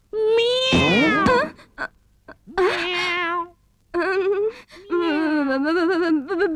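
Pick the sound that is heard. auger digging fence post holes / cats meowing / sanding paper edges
cats meowing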